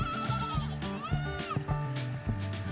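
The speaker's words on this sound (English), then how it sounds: "And here you have goats." Goats at a glamping site in Bukit Tinggi, Bentong, Pahang, bleating close by in several overlapping wavering calls, one after another.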